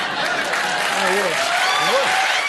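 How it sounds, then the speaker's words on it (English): A large crowd cheers and applauds in a loud, dense wash of clapping, while a voice talks over it throughout. "as the crowd starts to cheer more"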